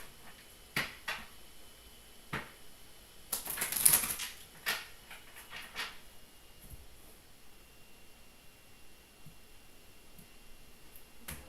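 Quiet, scattered papery flicks and riffles of tarot cards being shuffled, with a denser burst of shuffling near the middle, otherwise soft and sparse.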